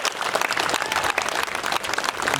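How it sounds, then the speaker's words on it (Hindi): An audience at a state government employees' workers' rally claps in steady, dense applause, close and continuous for the whole short stretch. "तालियों का साथ दिखा दीजिए"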